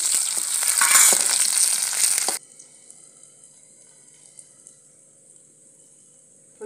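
Chopped garlic and green chilies fry in a pan with a loud, dense sizzle for about two seconds, then it cuts off abruptly to a faint steady hiss.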